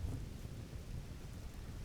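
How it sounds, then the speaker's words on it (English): Steady rainfall in the survival game Vintage Story, a dense continuous wash with low rumbling undertones, even and unbroken throughout with no voices. "Very common rain in this area"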